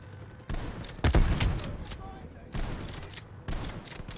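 Shotgun blasts in the shooter Call of Duty: Black Ops Cold War, several loud booming shots about a second apart with echoing tails over busy battle ambience.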